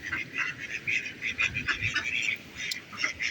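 Ducks quack repeatedly in a busy, overlapping chorus, fairly faint and steady, with a brief sharp click near the end.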